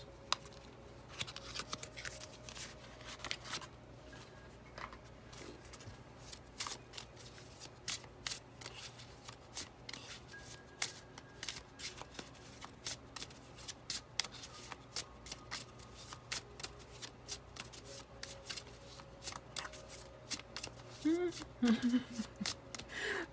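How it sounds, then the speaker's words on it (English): A deck of Love Oracle cards is shuffled by hand during a tarot reading, with repeated soft riffling and slapping bursts that are quiet and close, and some speech mixed in. "we'll also pull one from the Love Oracle cards here"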